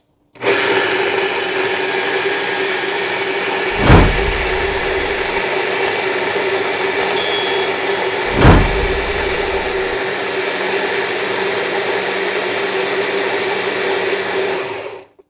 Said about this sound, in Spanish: vamos a moler nuestro tomatito